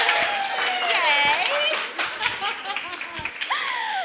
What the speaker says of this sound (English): I'm going to get everyone to give our beautiful ladies a big round of applause.